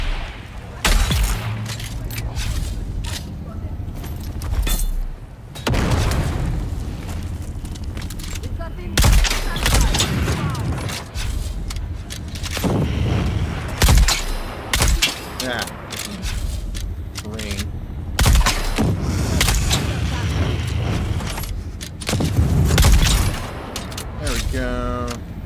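Dune Awakening gunfire crackles in bursts and rapid volleys, loud and close, separated by brief lulls, with a person talking at times between the shots.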